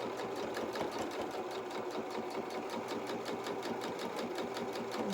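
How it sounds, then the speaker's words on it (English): A sewing machine runs steadily, stitching a fabric seam along the bottom edge of a small doll jacket, with an even, fast mechanical whir heard alone at a modest level. "And sew along this bottom edge first."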